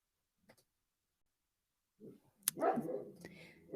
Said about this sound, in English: my dog wants to join in